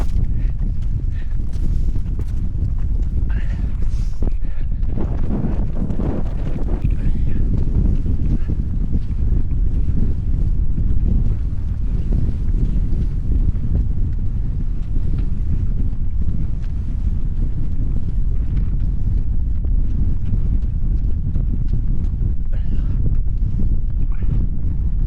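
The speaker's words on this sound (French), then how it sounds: "Oh mais fragile ce vent, il m'épuise." Strong wind roars and buffets the microphone continuously during an outdoor race, a dense, unbroken rumble with gusty surges throughout, and no speech is heard over it.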